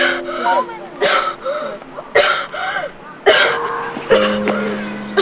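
A person with asthma coughs in several harsh, wet bursts spaced about a second apart, close by, with brief gaps of quiet breathing between them.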